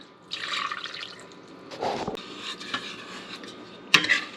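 Half a cup of water pours into a kitchen pot holding sugar, salt and corn syrup for homemade marshmallows, a short splashing gush followed by faint drips and a light clink of metal, with no talk.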